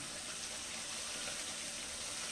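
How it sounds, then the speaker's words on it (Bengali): Water is poured from a freshly rinsed plate into a spice mixture cooking in a pan; a soft, steady splashing flow is heard on its own. "প্লেটটা ধুয়ে একটু জল দিলাম"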